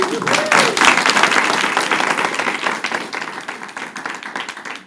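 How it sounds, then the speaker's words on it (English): An audience at a school board meeting applauds the state softball participants who placed third, a dense, steady wash of many hands clapping that starts strong and slowly tapers over about five seconds. "let's give everybody a round of applause."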